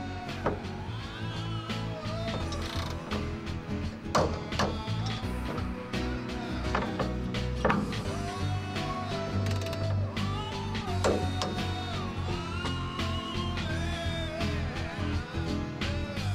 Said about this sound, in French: Serrer les fixations des serrures et du support de vérin avant.